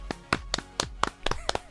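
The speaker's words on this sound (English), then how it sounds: "Everybody clap your hands" Several sharp, broadband hand claps from a group of people, spaced roughly every quarter second in an uneven rhythm, fairly close and loud, with a talking voice faintly underneath.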